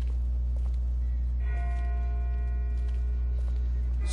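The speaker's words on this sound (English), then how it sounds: "That's not the same bell as before. This one's further off." A distant bell rings in The Walking Dead video game, its tones sustained and faint behind a steady low hum, with no voices present.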